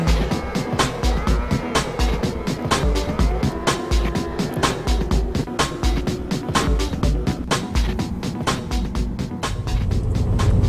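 A car driving along a road toward a small country town, with steady road and engine rumble and a rapid, even ticking pulse running throughout at constant loudness, no voices.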